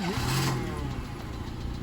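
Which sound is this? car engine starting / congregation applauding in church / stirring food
car engine starting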